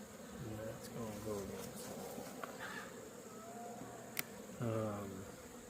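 Bees drone around an open hive being inspected in autumn, a steady low buzz that swells and fades through the clip, with a few sharp clicks and bursts of nearby movement.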